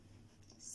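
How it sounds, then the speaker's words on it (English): A short, faint scratch of a pencil drawing a 7 cm line on paper, a soft rasping stroke that briefly brightens at the end. "So first of all, you draw a line of length"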